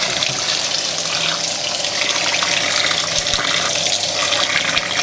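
Water pours into a washing machine's oversized dispenser, making a loud, continuous gushing hiss close by with a few small knocks underneath.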